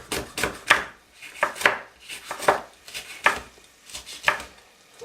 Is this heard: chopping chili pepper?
yes